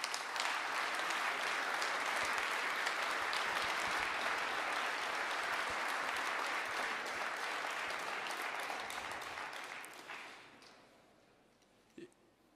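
A large audience at a corporate New Year's greetings ceremony applauds volunteers with dense, sustained clapping that holds steady, then fades out over the last few seconds, leaving near quiet with one faint knock.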